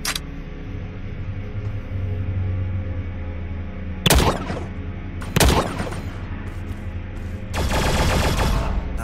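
A weapon fires in the video game The Signal From Tolva: a few loud, sharp single shots spaced apart, then a longer rattling burst, over a continuous low game ambience.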